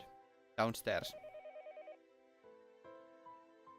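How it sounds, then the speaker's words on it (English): Telephone in a Japanese home in Higurashi no Naku Koro ni giving a quick electronic warbling ring that pulses rapidly, then continues as tonal beeps under soft music, after a short burst of a voice. "The phone rang noisily downstairs."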